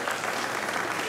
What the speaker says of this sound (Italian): un applauso va anche a lui, no?